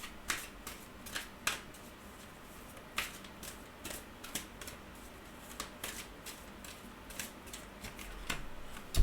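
Oracle cards are shuffled by hand in a series of crisp, rapid riffling bursts and soft flicks, close and fairly quiet, repeating irregularly with no voice.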